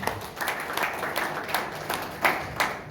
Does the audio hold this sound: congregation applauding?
yes